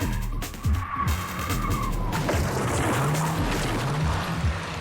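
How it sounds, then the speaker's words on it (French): A car with failed brakes careens along, a sustained engine roar with tires skidding and squealing, loud and close throughout. "La voiture ne freine plus!"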